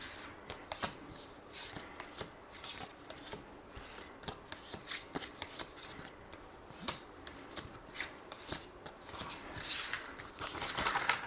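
A deck of tarot cards shuffled and drawn by hand, with continuous close riffling and soft slapping card sounds in irregular bursts, fairly quiet and without talk.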